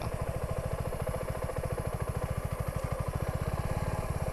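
A Suzuki V-Strom 250 SX motorcycle engine putters with a rapid, even thumping rhythm, close and steady throughout, with no voices.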